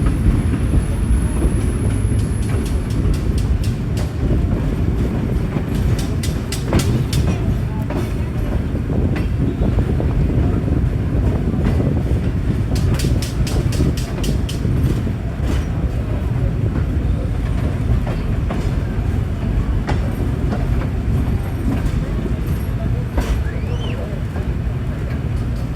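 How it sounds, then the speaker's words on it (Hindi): The Bulleh Shah Passenger train approaches Kasur Junction station in Pakistan, heard from on board as a loud, steady rumble with clickety-clack wheel rhythms and wind buffeting, and brief high squeals rising above the noise. "5:30 बजे ट्रेन हमारी अप्रोच बना रही है जी कसूर जंक्शन रेलवे स्टेशन के ऊपर"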